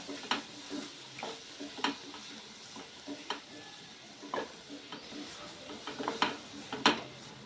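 Onions cook in a little oil in a pan, a quiet sizzle broken by soft scrapes and taps of a stirring utensil.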